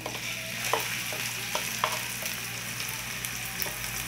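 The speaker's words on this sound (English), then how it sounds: "So I'm just going to throw in the garlic." Garlic and onion frying in hot oil, a constant close sizzle beneath a low hum, with a few light clinks of stirring scattered through.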